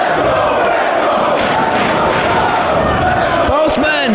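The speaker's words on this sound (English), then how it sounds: "Listen to this crowd." A professional wrestling crowd at a Ring of Honor event cheers and shouts in a loud, continuous roar, with sharp impacts near the end.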